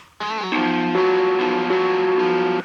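Electric guitars played through an amp simulator plugin ring out as sustained, distorted chords, shifting pitch a few times over roughly two and a half seconds, loud and close with no voices.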